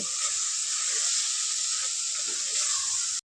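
Tomato rice masala frying in a pan, a loud, steady, close hiss of hot oil and sizzling that holds evenly throughout and then cuts off abruptly.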